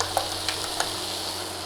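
Eggs go into an egg stew frying in a pan, giving a steady broad sizzle with a few faint clicks of stirring, close and moderately loud, with no talking.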